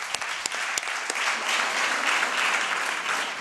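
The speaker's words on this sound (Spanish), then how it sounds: "¿Sabéis por qué pido el aplauso?" Audience applause at a lecture, a steady wash of many hands clapping close and loud, with a few sharper individual claps near the start, continuing throughout without talk.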